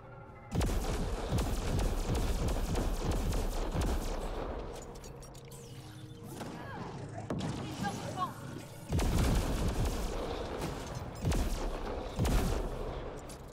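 Rapid bursts of gunfire and explosions from the shooter game Mass Effect Andromeda come in heavy, dense volleys, easing off midway and then returning loud, with occasional faint talk between them.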